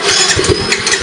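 The starter motor of a Honda Mio i 125 scooter cranks loudly and up close in a quick pulsing churn, and the engine never catches.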